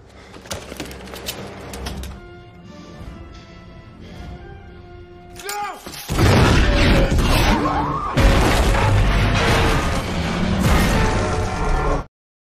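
Music plays, then a sudden massive explosion of a tower in a film erupts into a long, loud roar of crashing debris and rumbling that continues before cutting off abruptly.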